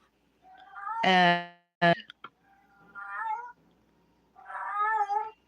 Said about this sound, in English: My cat meows.